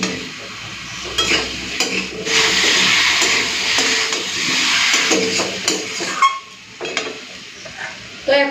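Taro and potato fry with spices in a pan, a steady sizzle broken by scraping stirs of a spatula and occasional clinks, with a voice speaking briefly now and then.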